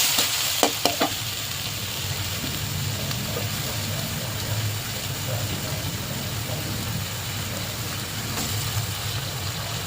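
Odong noodles with petchay being stirred in a frying pan, a steady close sizzle and scraping under faint background hum, opening with a few sharp utensil clacks against the pan, no speech over it.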